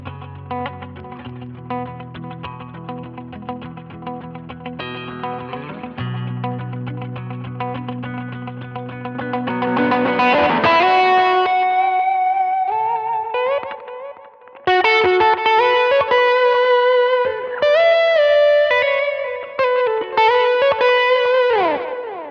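Electric guitar run through an Echo Sax and slapback delay, distorted notes and chords repeating with echoing tails, loud and alone, getting brighter and busier halfway through.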